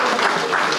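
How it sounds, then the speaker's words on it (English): An audience at a community center anniversary celebration applauds a choir. The clapping is loud and close and continues without a break through the whole short moment. "let's give it a round of applause for the choir who sang Magnificent"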